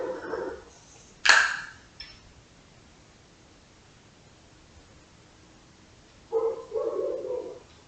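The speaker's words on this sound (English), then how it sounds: "Uh-oh, I hear the neighbor's dog barking." A distant dog barks a few times, faint against a steady background hiss, with a sharp bark early and a short cluster near the end.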